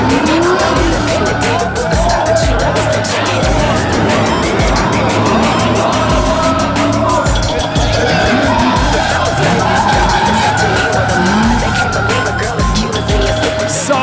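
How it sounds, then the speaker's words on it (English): Drift car sliding through a competition run, its engine roaring continuously while the tires squeal and skid loudly throughout, with a distant crowd faintly beneath. "If drifting is a science, Matt Powers is the professor."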